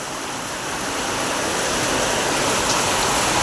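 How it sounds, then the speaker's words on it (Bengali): Heavy rain falls in Kolkata as a dense, steady roar of hiss that builds slightly and holds throughout, with no voices. "সারাক্ষণ বৃষ্টি পড়ছে।"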